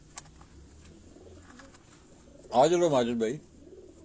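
Pigeon cooing rings out loudly and close for about a second, a rolling coo after quiet background noise, with a voice speaking briefly in the clip.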